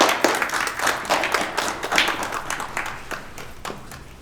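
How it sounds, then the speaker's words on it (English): Crowd applause at a Kwanzaa commemoration ceremony in Paterson, honoring the deputy mayor: dense, steady clapping from many hands, fairly loud and close, tapering gradually over a few seconds. "You can applaud for her one more time."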